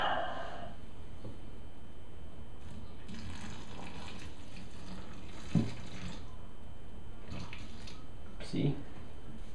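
Water trickles quietly into a violaceus tarantula enclosure during rehousing, a soft pour at the start followed by low background noise and a couple of brief knocks against the tank.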